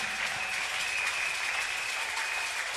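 A church congregation applauds steadily, the clapping dense and sustained, filling the room without pause.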